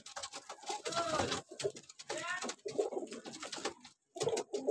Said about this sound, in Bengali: আবার নিচেও পাখি আছে, আপনাদেরকে দেখাচ্ছি।